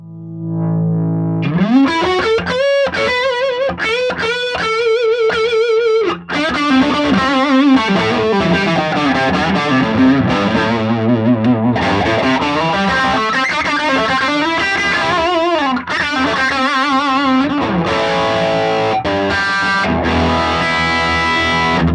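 An electric guitar played through a Marshall Astoria Custom amplifier, with distorted, effects-laden tone in fluid bends and runs that sustain loud and steady for the whole passage, with no talking.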